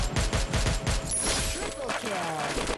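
Rapid automatic gunfire in the Free Fire video game, a loud burst of evenly spaced shots followed by a denser ringing volley and trailing echoes, with players talking over it.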